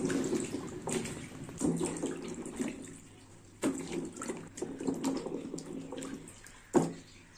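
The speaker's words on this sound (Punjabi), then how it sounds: "ਇਹਨਾਂ ਨੂੰ ਚੰਗੀ ਤਰ੍ਹਾਂ ਮਲ ਮਲ ਕੇ ਧੋ ਲੈਣਾ" Carrots being rubbed and washed by hand in water in a home kitchen, with soft sloshing and splashing, a few sharper splashes standing out, fairly close and with no talking.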